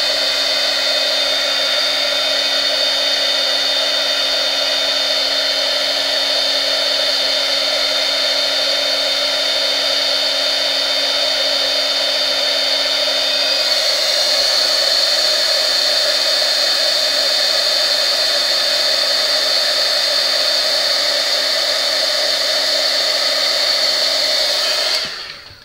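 A handheld heat tool blows hot air onto a card to melt embossing, a loud steady whine and rush that shifts pitch about halfway through and cuts off at the end.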